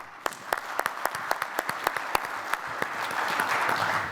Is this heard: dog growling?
no